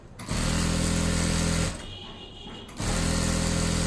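A sewing machine stitches pant fabric in two loud, steady whirring bursts, close up, separated by a short quieter pause.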